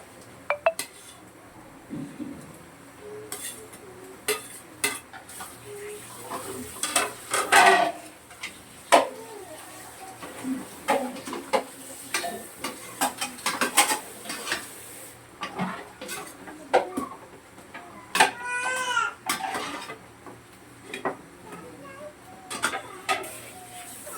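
Tofu goes into a pan of chicken adobo and is stirred, giving scattered metallic clinks and scrapes of a utensil against the pan, with quiet kitchen noise between the knocks.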